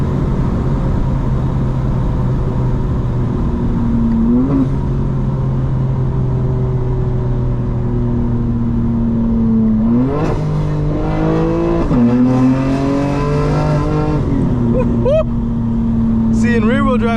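A 2025 BMW M4 Competition engine revs while driving at night, a loud close drone that climbs and drops through several gear shifts, with crackling bursts in the middle.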